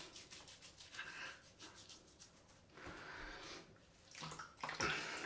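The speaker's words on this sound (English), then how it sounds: "just rubbing the pre-shave in." Fingers rub pre-shave into the skin before a wet shave, a faint, soft rhythmic scrubbing with brief wet swishes, close and quiet.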